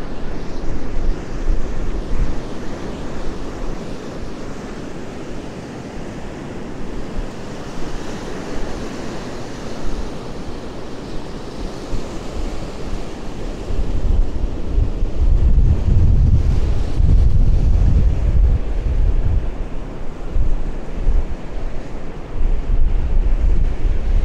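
Stormy sea at Blackpool during a weather warning: continuous roaring surf and heavy wind buffeting the microphone, swelling louder in the second half with deep rumbling gusts.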